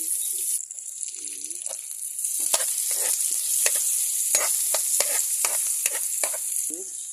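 Bibimbap with garlic being mixed in a hot pan, a steady loud sizzle running throughout with repeated scraping stirs of the utensil against the pan, no talking.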